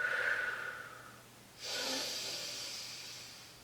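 Breath during a mat Pilates exercise: a soft airy inhale, then a stronger, longer hissing exhale that slowly fades, close to the microphone with no talking.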